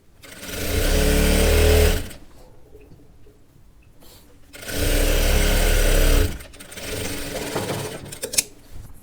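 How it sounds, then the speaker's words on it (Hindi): An electric sewing machine stitches a kali-style sharara in two loud, steady whirring runs of about two seconds each, separated by quiet pauses, followed by a softer stretch with handling clicks near the end. "सिलाई को इस तरीके से पक्का करेंगे।"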